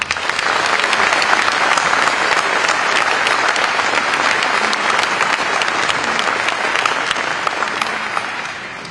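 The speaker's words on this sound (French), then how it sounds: "je vous demande de bien vouloir l'applaudir" A mayor's New Year greetings audience in Cavalaire, in the Var, breaks into dense, steady applause that stays loud and full for the whole span, with no talk over it.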